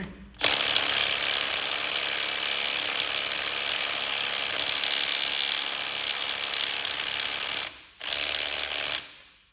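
A Milwaukee impact wrench hammers continuously and loudly up close with a dense rattling buzz for about seven seconds, stops briefly, then bursts again for another second.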